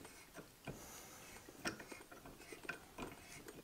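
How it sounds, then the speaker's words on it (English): A tap cuts a thread into a hole in 3D-printed stainless steel, making faint, irregular metallic clicks and grinding ticks as the tool turns in short strokes, with no talking. "now let's create a thread inside"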